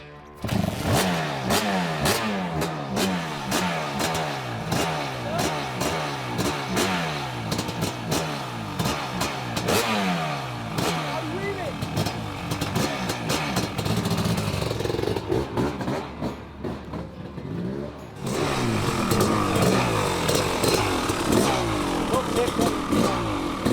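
A brand-new Yamaha YZ500 two-stroke dirt bike engine revs and accelerates repeatedly, rising and falling in pitch with a rapid, buzzy rattle, loud and close throughout.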